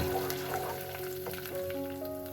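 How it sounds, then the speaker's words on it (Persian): Tomato paste sizzles and fries in a little oil in a small pan, a steady crackling hiss held close and fairly soft, with faint stirring scrapes and no talking. "تفت میدیم تا خامی رب گرفته شه و رنگش هم باز شه."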